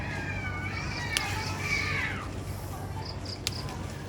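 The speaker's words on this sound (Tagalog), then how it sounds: "Naaway ang pusa." Cats fighting outdoors, with a drawn-out rising and falling yowl in the middle, a couple of sharp clicks, and a steady low background hum.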